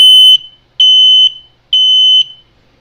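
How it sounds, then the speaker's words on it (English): A Servis smoke detector sounds its temporal alarm pattern: three loud, piercing half-second tones in an even rhythm, close and alone in an otherwise quiet room. "And here's what this would sound like temporal."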